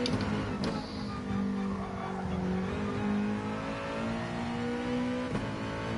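Engine of a race car in Gran Turismo Sport on the Saint Croix circuit, a sustained drone whose pitch slides down as the car brakes into a corner, with brief tire scrub, loud and steady throughout.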